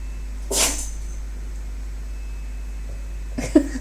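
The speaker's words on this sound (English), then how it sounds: "the dog was sneezing" A pet dog sneezes twice indoors: a sharp burst near the start, then a shorter, fainter one a few seconds later, with quiet room hum between.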